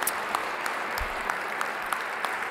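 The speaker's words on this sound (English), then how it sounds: "please give them a quick hand." Audience applause at the Center for Ethical Organizations Principled Leadership Awards ceremony: steady clapping from a room of people, moderately distant, continuous for a few seconds with scattered sharper claps standing out.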